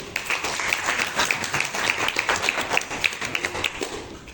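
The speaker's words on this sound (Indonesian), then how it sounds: "Tepuk tangan Adit dulu." Classroom applause for a student, a short burst of many hands clapping together in a quick, uneven rhythm, fairly close and lasting a few seconds.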